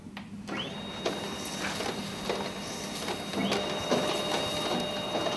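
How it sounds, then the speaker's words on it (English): A Kodak i1210/i1220 document scanner feeds and scans a document with a steady mechanical whir and several soft clicks and paper swishes, heard up close with no voices. "We insert the document into our scanner, and using the Kodak Smart Touch system, we're able to operate the machine with one button."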